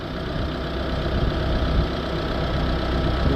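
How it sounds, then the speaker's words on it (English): Air compressor running steadily while cleaning foam is sprayed into the diesel particulate filter of a Vauxhall Vivaro van, a continuous engine-like drone with a low rumble that holds constant throughout, no talking. "You can hear the compressor kicking in down there."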